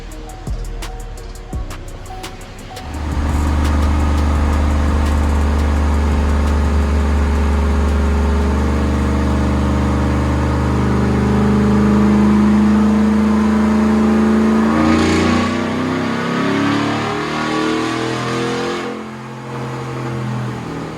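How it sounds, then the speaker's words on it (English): A 2016 Chevrolet Silverado 5.3 V8 fitted with a Texas Speed stage 2 cam and no headers, on a dyno: after a quiet start the engine roars into a long sustained pull, climbing in pitch toward 4,800 RPM before easing off. "they're probably gonna strap it up on the dyno and start doing some pulls in it"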